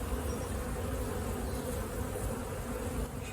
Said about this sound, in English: See the bees festooning on here.